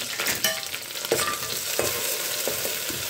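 A green chili sizzles in butter in a pan, a soft steady frying hiss broken by a few brief stirring clicks and scrapes, close and fairly quiet with no talk.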